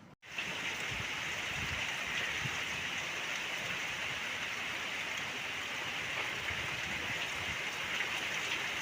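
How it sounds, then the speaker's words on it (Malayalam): Heavy rain pours down steadily at Dharmadam island in Kannur by the sea, a dense, continuous hiss of drops close by with no voices. "കണ്ണൂർ അതിഭയങ്കര മഴയാണ്"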